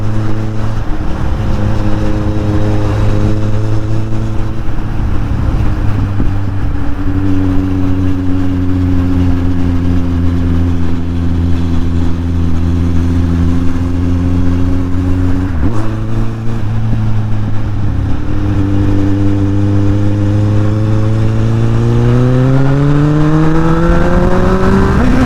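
A motorcycle ridden on roads in south-east France, its engine droning loud and close with a steady harmonic hum, dipping briefly as gears shift, then rising in pitch as it accelerates near the end, under strong wind noise.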